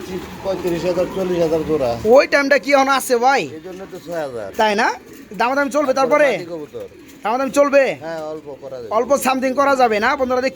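A black Maltese pigeon hen, a laying female, coos in repeated rolling bursts close by, with someone talking between and over the calls.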